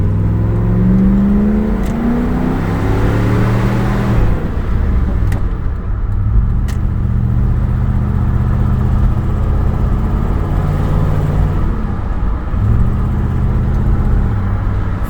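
A 2005 Lincoln Aviator fitted with a 2003–04 Cobra engine idles a little high, with a steady close engine drone whose pitch wavers slightly and briefly dips, with faint clicks over it.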